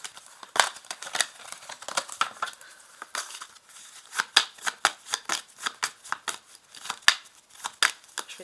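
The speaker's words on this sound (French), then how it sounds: "Je vais tirer 3 cartes." Tarot cards being shuffled by hand, a steady run of crisp riffling flicks and soft slaps, close and fairly loud with uneven rhythm and no talking.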